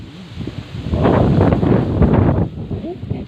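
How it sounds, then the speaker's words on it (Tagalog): Strong wind blowing outdoors, rising gusts buffeting the microphone with rushing noise and rustling, loud and close, while a voice briefly talks around the gusts. "Ayan, lakas ng hangin, oh."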